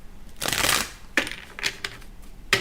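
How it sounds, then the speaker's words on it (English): Tarot cards being shuffled by hand, heard as several brisk riffling bursts of papery flutter separated by short pauses, close and fairly quiet with no voices. "let me go ahead and shuffle one more time."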